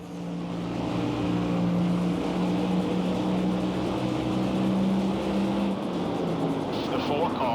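NASCAR Thunder 2004 video game race cars on track, a pack of fresh-tire cars flying by: a steady, loud, continuous engine drone that holds throughout with no breaks.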